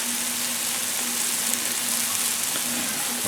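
Steady, close sizzle of food frying on a Blackstone flat-top griddle with oil while shrimp omelets are being made, a continuous broadband hiss with faint crackles and a low hum, no talking.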